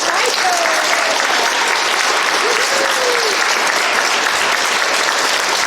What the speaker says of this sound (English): Please give a huge round of applause for our assistant director, Sophia.